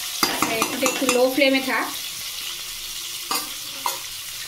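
Chicken frying in a pan over low flame is stirred with clattering scrapes and a steady sizzle in the first two seconds, followed by quieter sizzling with a couple of sharp utensil knocks; a voice speaks briefly.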